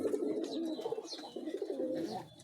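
Sirazi and desi pigeons, some red and white, give soft, repeated throaty coos close by, in a quiet rolling rhythm with faint background chirps.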